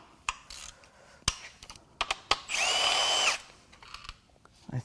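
A power tool spins out a pin bolt holding a timing chain guide on a BMW S63 twin-turbo V8 during an engine teardown: one loud, close, steady whir lasting about a second, among scattered metallic clicks and tool handling sounds.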